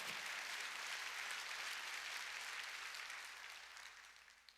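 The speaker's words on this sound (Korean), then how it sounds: "박수치라 이게요" A church congregation at a Sunday worship service applauds together, a steady dense wash of clapping that holds for several seconds and then slowly thins and fades toward the end.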